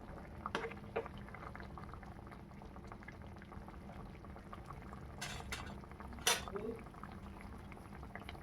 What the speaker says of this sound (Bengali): ভালো করে ঝোলটাকে ফুটিয়ে নেব